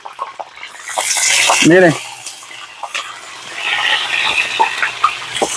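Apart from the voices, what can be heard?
water running while washing yellow chili peppers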